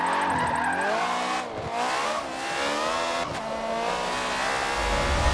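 A Honda Civic built as a drift car in a racing video game, its engine revving hard and rising in pitch while the tyres squeal through a slide, loud and continuous with no voice.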